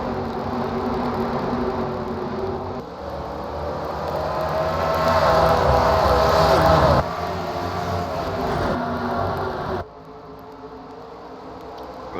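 Stock cars race at Richmond in a video game, with a continuous engine drone that rises and falls as the pack runs through the turns, under a commentator's talk.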